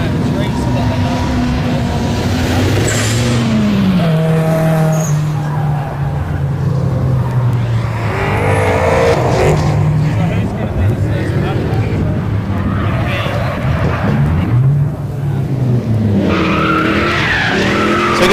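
Drift cars in a drift battle, with engines revving and tires skidding and squealing continuously at close range, pitches rising and falling as the cars slide, while a commentator talks over them.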